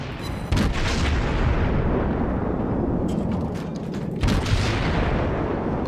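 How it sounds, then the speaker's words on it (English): Heavy naval gun salvos in World of Warships as Aoba and Omaha cruisers trade armor-piercing fire, booming loud blasts followed by long rumbling tails, two main bursts about four seconds apart. "Love hitting him with AP rounds."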